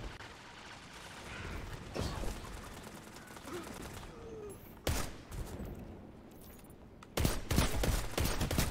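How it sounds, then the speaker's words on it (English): Scout rifle gunfire in a Destiny 2 Crucible match, sharp separate shots ringing out over a low game backdrop, with a quick cluster of louder shots near the end. "That's shooting at you with a scout rifle."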